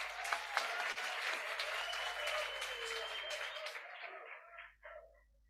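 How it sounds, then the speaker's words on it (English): An audience at a customs authority awareness session breaks into steady applause that holds for several seconds and then tapers off, moderately loud in a large hall. "A round of applause, please."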